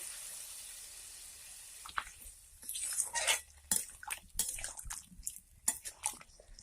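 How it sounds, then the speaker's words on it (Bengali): Water poured into a pot of vegetable curry after frying the spiced vegetables, a quiet hiss giving way to uneven splashing and bubbling with clinks of the pot, close and moderately loud. "এবার আমি পরিমাণ মতো জল দেবো"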